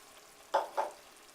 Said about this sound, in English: We're going to let the red wine simmer in the pot until it's reduced by about half